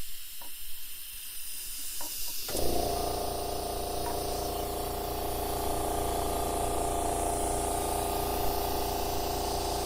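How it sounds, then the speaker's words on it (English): An air compressor kicks on at a building site during flat-roof rim board framing, a loud steady motor drone with hissing airflow that starts abruptly after a few quiet seconds and runs continuously to the end. "hopefully I'm not making too much noise, or hopefully that compressor's not making too much noise"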